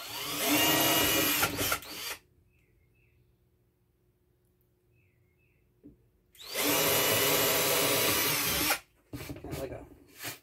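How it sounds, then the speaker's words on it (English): A power drill bores pilot holes for screws while camper bunk beds are rebuilt: two loud whirring bursts of about two seconds each, split by a quiet pause, then a few short choppy pulses near the end. "So I'm going to drill a small pilot hole, put those screws in."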